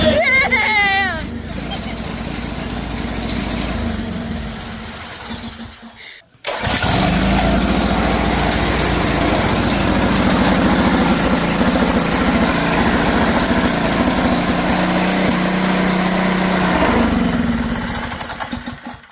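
Cafe racer motorcycle built on a budget, engine running steadily and loud after a restart, preceded by a brief cut-out and a few seconds of voices and shouting, with the motor droning continuously to the end.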